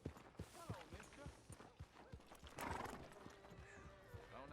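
A horse in Red Dead Redemption 2 clip-clops at a steady walking rhythm with a clear neigh midway, up close and fairly quiet, while a voice talks alongside.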